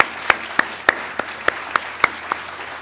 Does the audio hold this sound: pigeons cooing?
no